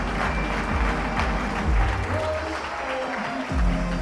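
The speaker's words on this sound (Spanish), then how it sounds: "Give yourselves a big round of applause." An audience at a presentation event claps steadily in a continuous round of applause, with some voices mixed in underneath.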